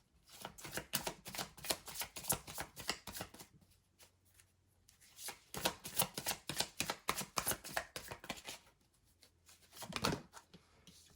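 Tarot cards are shuffled and drawn from a deck, with quick crisp riffling bursts in two long runs, a pause between them, then a short final flick, all close and quiet.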